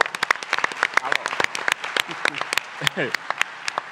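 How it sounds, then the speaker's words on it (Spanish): An audience applauds a comedian on a talk show with quick, scattered clapping, close and steady over a few seconds, while a voice speaks briefly over it. "Un aplauso para Germán, señores"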